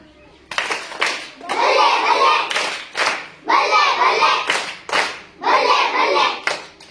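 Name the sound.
children clapping a rhythmic 'racket' or 'balle balle' clap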